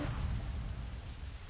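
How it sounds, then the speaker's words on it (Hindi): Steady rain shower hissing over a broad wash of noise in an animated Hindi village story, soft and continuous without any voice on top. "इतने में बारिश की बौछार पड़ने लगती है"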